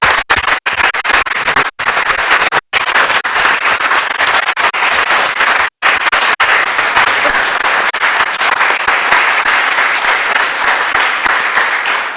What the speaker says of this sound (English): just give them a round of applause for that